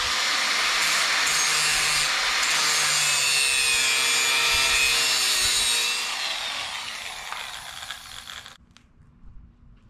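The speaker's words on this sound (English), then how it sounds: "I'm gonna use the cutoff wheel, so." A cutoff wheel grinds through metal for an awning bearing mount, a loud, close, high whining screech for about six seconds that fades as the wheel spins down.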